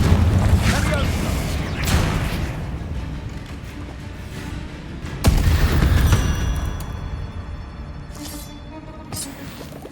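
Bombarda and Confringo spell explosions in the video game Hogwarts Legacy: repeated booming blasts and crackling bursts, one sharp loud hit in the middle, with a voice heard calling out between them.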